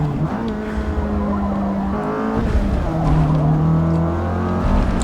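Race car engine in the Forza Motorsport game on PC, a loud, continuous sustained engine note shifting pitch as it brakes and accelerates through a corner, alone without talk.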